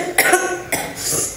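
Two quick, harsh coughs from someone ill with fever and a cold, close to the microphone, with a short gap between them and a softer breathy tail.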